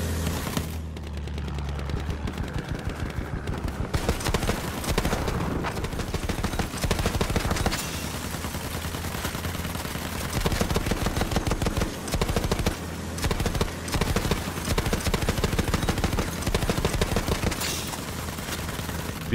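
Heavy automatic gunfire in a vehicle combat video game, with long rapid bursts and dense rattling shots that continue almost unbroken at close range and high volume.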